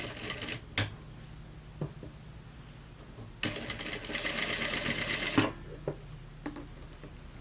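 A sewing machine sews a beginner's summer jumpsuit seam, then backstitches it: short separate bursts of fast mechanical stitching, one longer run of about two seconds in the middle, and quiet pauses with small clicks between them.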